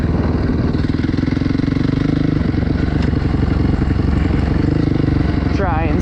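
A motorcycle engine in second gear revs hard during wheelies, loud and close, its droning note holding steady with brief rises and dips and heavy wind rush throughout.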